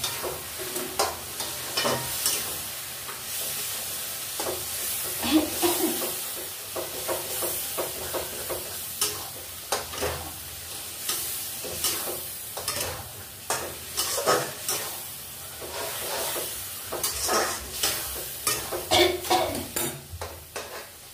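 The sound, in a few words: taro leaves (kochur shak) frying in a pan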